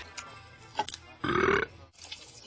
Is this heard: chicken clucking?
no